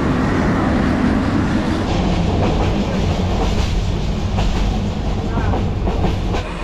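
A moving train in Bangladesh rumbles loudly and steadily from close by, with a dense low roar of wheels and carriages and faint rhythmic rail clatter throughout.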